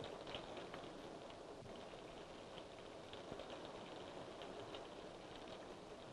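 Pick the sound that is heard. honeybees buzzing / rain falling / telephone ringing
rain falling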